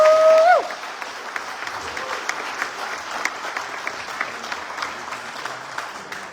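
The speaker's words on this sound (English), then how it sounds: "So give yourselves a round of applause." Audience applause at a convention seminar for a tabletop miniatures game company, a sustained crowd clapping that follows a brief tone at the start and holds steady to the end.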